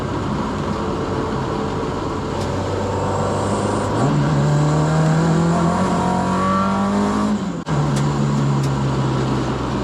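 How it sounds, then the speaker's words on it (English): An old Ford Escort Mk2 driving on the road, its engine droning steadily and loud, then rising in pitch as it accelerates through the gears with a brief dip at a shift. "it's time to fire up this old banger and hit the road"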